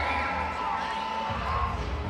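Roller derby crowd at a bout in a large venue, a steady roar of cheering and whooping that stays loud and continuous throughout, with a voice calling out over the noise.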